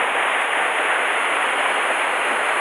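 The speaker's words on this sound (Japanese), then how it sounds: "さあ、あの滝をどうやって越すか。" Mountain waterfall in the Tanzawa range, a steady broadband rushing roar of falling water that holds unbroken and loud throughout, with no voices over it.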